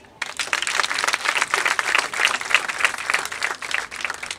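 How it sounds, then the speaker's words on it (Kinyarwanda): A crowd at a ceremony closing a community service programme in Kinyinya applauds, with dense, sustained clapping that starts abruptly and continues loudly for several seconds. "Mu ntiza amashyi tubashimire."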